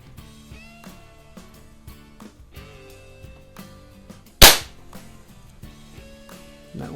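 A single sharp crack from a .177 pellet pistol, a BSA Scorpion or Ampell Acro, fired once near the middle and standing out loudly above quiet background clinks and faint tones.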